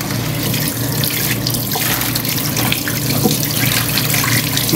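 Tap water runs steadily and fairly loud over rice noodles being washed in a sink for pancit bihon, a continuous splashing flow with no talk.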